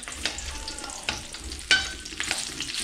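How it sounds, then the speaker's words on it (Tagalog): Chopped garlic sizzles in hot cooking oil, a steady close crackle broken by sharper spits and pops as it is stirred in the pan. "mainit na po itong ating mantika. Sunod na natin itong ating ginayat na bawang."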